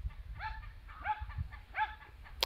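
A dog gives three yappy barks, evenly spaced and fairly faint, over low background rumble, ending with a sharp click.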